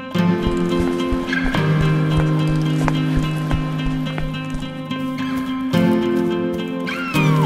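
A cat meows in an animated cartoon, several short cries over a busy soundtrack with tones and light thuds.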